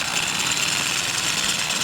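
A small 2.5 mm drill bit bores pilot holes for a dual-valve valvetronic exhaust built for a Ford Fiesta, a steady, close, high-pitched whine running continuously without pause.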